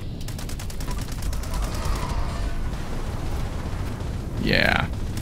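Rapid gunfire bursts from the Fallout 76 video game, an anti-armor Fixer rifle, crackle steadily through a busy in-game battle, with a brief whooshing effect near the end and players talking over the action.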